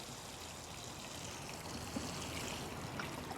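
Water flows steadily from a garden hose or watering can onto fall garden plants, a continuous close hiss and trickle with no pauses and no voices.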